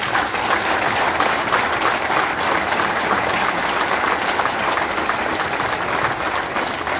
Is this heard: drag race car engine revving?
no